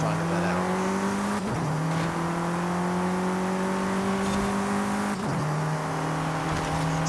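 A race car engine in Forza Horizon 5 screams loud and steady as it climbs through the gears, with sharp dips at two gear changes before the pitch rises again.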